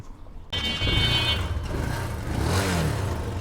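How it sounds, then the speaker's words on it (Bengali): A second-hand RKS 150cc motorcycle engine starts up and runs steadily nearby with a rough, throaty idle that rises slightly in revs partway through. "এই গাড়ির ইঞ্জিন সাউন্ডটা দেখলাম মোটামুটি ভালো মনে হয়েছে"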